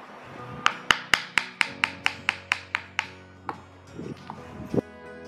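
A hammer strikes paraffin wax candles laid on grass to break them into small pieces, about a dozen sharp, evenly spaced thwacks close by, then a few softer irregular knocks.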